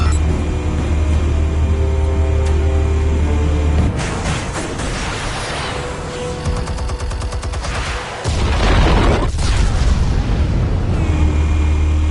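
An explosion from The Batman, set off by armed explosives, erupts as loud booming, crackling blasts that swell in the middle of the passage over a heavy low rumble before the steady drone returns.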